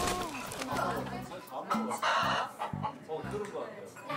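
Chickens cluck and crow in short, repeated calls close by, mixed in with lively chatter from several people talking over them.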